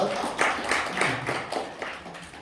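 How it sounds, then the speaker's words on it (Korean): Crowd applause at a Korean National Assembly orphan conference, welcoming presenters onto the stage; steady dense clapping at moderate level, with some voices mixed in. "큰 박수로 맞아주시기 바랍니다"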